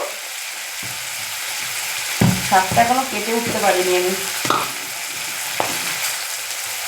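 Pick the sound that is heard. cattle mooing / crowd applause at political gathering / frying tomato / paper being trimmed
frying tomato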